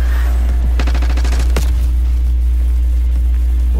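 Gunfire rings out in a Call of Duty Black Ops 6 multiplayer match: a rapid burst of shots, then a single sharp crack, with scattered fainter distant shots afterward, loud and close over steady background noise.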